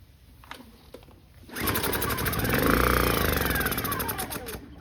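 A small Honda EU1000i generator engine with a dirty carburetor sputters to life after a few faint knocks, then runs loudly with a steady, buzzing idle that swells slightly and holds.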